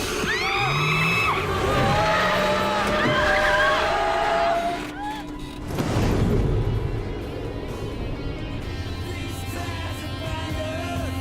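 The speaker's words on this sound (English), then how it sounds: "his ghost appears in the back, tries to crash the car and fails" In a Hellraiser film scene, a car swerves hard as a crash attempt fails: tires squeal and skid, a thump lands midway, and yells ring out over steady road rumble.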